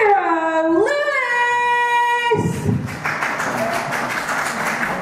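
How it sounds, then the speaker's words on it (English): Scattered applause from a wrestling crowd as a wrestler heads to the ring, a broadband wash of clapping that swells in after a loud musical tone and carries on steadily to the end. "Well, smattering of applause there."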